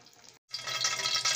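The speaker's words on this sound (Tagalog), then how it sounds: "tulo ng tulo yung tubig niya dito." Water from a leaking kitchen tap runs and splashes into a sink, a brief soft stretch cut by a short silent gap, then returning louder and steady, close and alone.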